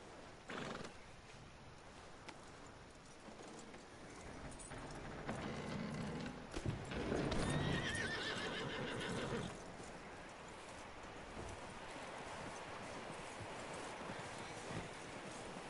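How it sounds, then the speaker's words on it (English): A horse whinnies in the middle of Red Dead Redemption 2 gameplay, with hooves clopping and soft mechanical clicks over a quiet background of game ambience; no talking. "That looks like a decent horse."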